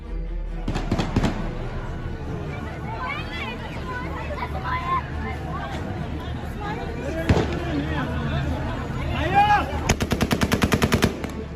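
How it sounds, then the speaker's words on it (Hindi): Bursts of rapid gunfire crackle in the distance in Afghanistan beneath a murmuring crowd, with a sharp single shot midway and a fast automatic volley near the end. "पीछे फिर आपको गोलियां चलते हुए सुनाई देंगी, सुनिए।"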